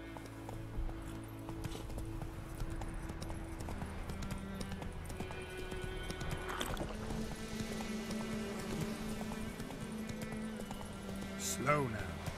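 Roach the horse gallops in The Witcher 3 on Death March difficulty, a steady run of clip-clop hoofbeats throughout with a brief whinny near the end, set among game ambience and voices.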